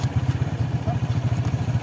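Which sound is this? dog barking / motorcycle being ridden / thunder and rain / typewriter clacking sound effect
motorcycle being ridden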